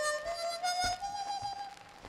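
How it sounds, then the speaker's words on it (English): Chromatic harmonica playing a simple tremolo: a single sustained reedy tone with a gentle wavering pulse, close and moderately loud, with no voices. "Then we have the simple tremolo"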